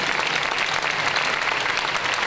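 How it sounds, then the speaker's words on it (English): An audience at a sports facility inauguration applauds city officials, continuous thick clapping at an even level throughout. "Please give our city officials a round of applause and appreciation."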